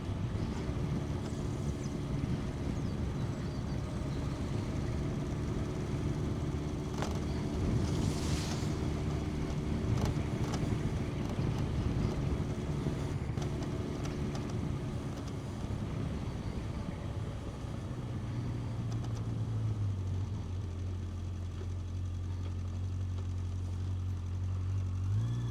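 A 1980s Yamaha XJ900 shaft-drive motorcycle on a ride, its steady engine drone mixed with heavy wind rush over the microphone, the engine note dropping as it shifts gear near the end.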